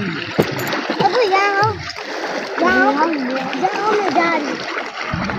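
People bathing in deep dam water with inner tubes, splashing steadily nearby while voices, including children's, talk and call out over it.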